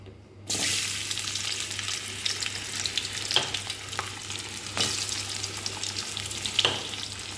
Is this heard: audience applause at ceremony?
no